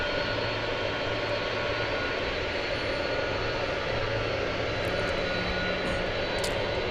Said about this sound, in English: Here's Flight 7 off to Brisbane, 7879.